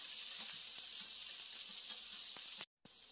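Home-fried potatoes sizzle steadily in a pan, a close, even hiss with faint crackles throughout, cut by a brief dropout near the end, no voices.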